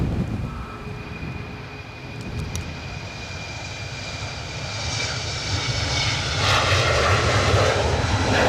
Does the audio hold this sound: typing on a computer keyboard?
no